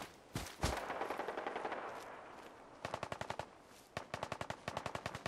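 Gunfire in a fight with a synth in the video game Fallout 4: a couple of heavy single shots, then rapid automatic bursts of evenly spaced shots in several short volleys, fairly close and punchy.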